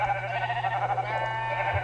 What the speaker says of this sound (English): to spawn, say, 5 sheep over here